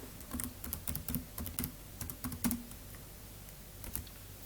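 A password being typed on a computer keyboard during an online login, with quiet, close, irregular key taps in quick bursts followed by a short pause, and no talk.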